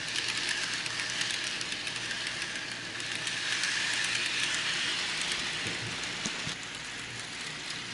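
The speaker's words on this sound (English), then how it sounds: "Let's get this train rolling." A toy train pulling flatbeds loaded with Tonka toy vehicles rolls steadily along its track with a continuous whirring rattle, faint clicks marking the rail joints, and no voices.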